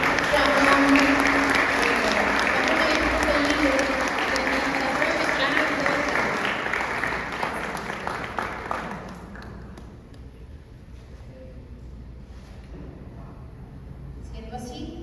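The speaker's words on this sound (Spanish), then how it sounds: "sellemos con un aplauso los testimonios y las ponencias" Audience at a Book Day event applauding testimonies and talks, a long steady rain of dense clapping that fades out around the ninth second, leaving a few scattered claps and low room noise.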